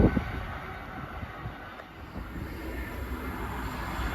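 A Freightliner freight train running from Trafford Park to Felixstowe on the Manchester Airport line rumbles past as a steady low drone of wagons, mixed with wind buffeting the microphone, with no voices.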